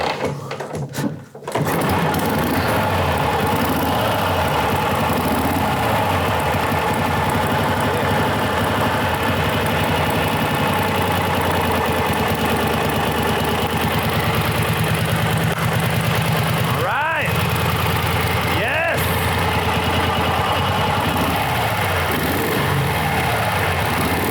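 A restored 1936 Harley-Davidson Knucklehead motorcycle idles loud and close after its first start, a steady, even rhythmic chug that runs on continuously with a couple of brief dips.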